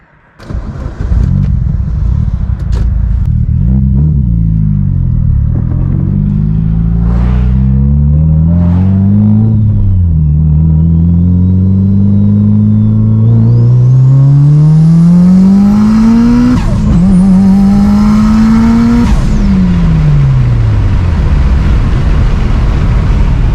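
Evo 8 fitted with an AGT 62mm turbo pulls hard through second and third gear, a loud, close engine roar climbing in pitch, dropping at each shift, then rising again with high turbo whine before easing off.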